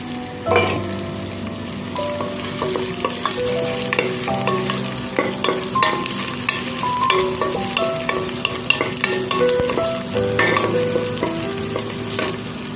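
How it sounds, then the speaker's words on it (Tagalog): Ginger and garlic fry in oil until golden brown for ginataan gulay with crabs, with a steady sizzle and repeated scrapes and clinks of a utensil stirring the pan close up. "habang pinapa-golden brown natin yung luya at saka bawang"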